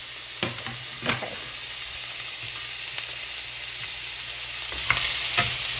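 Garlic and vegetables sauté in a hot pan, starting to burn, giving a steady, close sizzle and fry hiss throughout with occasional stirring scrapes and clinks, no voices.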